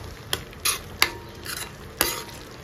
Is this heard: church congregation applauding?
no